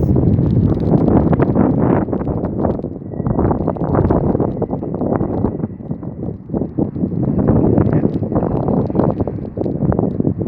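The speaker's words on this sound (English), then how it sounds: "It is extremely windy here in Shropshire, so if you can't hear my dialogue, blame the wind." Strong wind in Shropshire buffets the microphone continuously at a railway station, a loud low roaring rumble with gusts rising and falling throughout.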